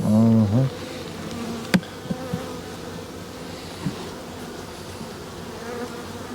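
Honey bees in an opened overwintered nuc hive in South Georgia keep up a steady low buzz, with a few sharp knocks and clicks of handling and a brief louder hum at the start.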